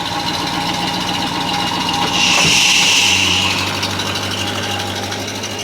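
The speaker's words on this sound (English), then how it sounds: "How about some factory exhaust tone?" A 1968 Pontiac LeMans idling nearby through its factory exhaust, a steady, low rumble that swells briefly in the middle before settling back to an even idle.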